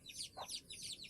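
Quick high chirping peeps from a chicken with a short cluck in between, faint and brief.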